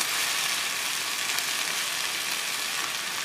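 Ivy gourd sautéing in oil over a low flame on the stove, a steady soft sizzle of frying with no talk, holding even throughout.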